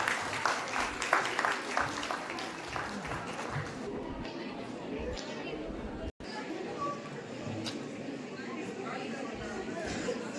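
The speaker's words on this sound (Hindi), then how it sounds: "एक बार जोरदार तालियां आप बजाएंगे सभी।" Applause rises from a crowd at a college science exhibition ceremony, dense clapping early that thins into chatter and background murmur, with scattered claps continuing.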